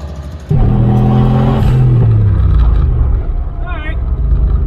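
A junkyard turbocharged Corvette launches hard off the line in a drag race, its engine rising in pitch as it accelerates, loud and close, with voices talking over it.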